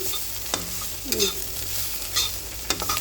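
Carrot fry cooking in a pan, a steady hiss of frying broken by a few scraping stirs of a spoon against the metal, close and continuous with no talking.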